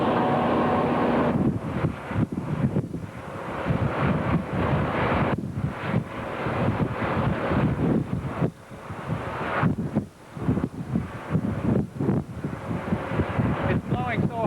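Strong wind gusting to about 45 mph batters the microphone aboard a ship at the 1989 Exxon Valdez oil spill, with loud, uneven roaring bursts that rise and fall and some speech partly buried beneath.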